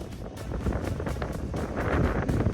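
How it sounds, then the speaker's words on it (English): Gusty wind buffets the microphone in rough, uneven bursts, loud and close, building slightly toward the end, outside a travel trailer with its power awning out. "It's windy."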